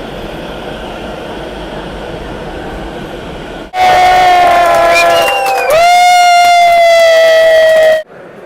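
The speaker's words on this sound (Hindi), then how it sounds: "नवी मुंबई की पहली मेट्रो दोपहर को 3 बजे अब कभी भी डिपार्ट होने की तैयारी है।" Navi Mumbai's first metro train departs Belapur, the crowd cheering as a loud horn blares, then a long steady tone sounds, with busy ambience before and a sudden cut at the end.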